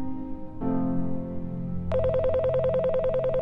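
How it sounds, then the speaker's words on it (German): A steady electronic tone shifts into a telephone ring, a rapid warbling electronic trill repeating steadily and loudly with nothing else heard. "Das Telefon, es klingelt."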